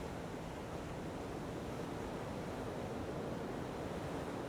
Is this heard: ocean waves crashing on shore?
yes